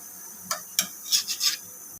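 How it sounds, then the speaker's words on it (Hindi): Mutton liver (kaleji) frying with masala on a tawa is turned with a metal spatula: a few close, scratchy scrapes and clinks against the hot iron surface, brief and separate, over a faint background hiss. "अब हम कलेजी की जो साइड है वो हम चेंज कर देंगे।"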